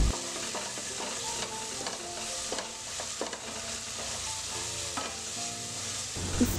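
Masala paste with homemade garam masala and a generous amount of kasuri methi roasts in a pan for a sabut moong dal tadka, giving a steady sizzle under a string of scraping stirs, close and continuous, with no voices.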